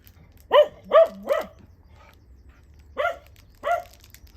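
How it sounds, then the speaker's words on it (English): A dog barking outdoors beside a straw bale vegetable garden as children pass: a quick burst of three barks, a pause, then two more, fairly close and clear over quiet background. "Sorry about the dog barking"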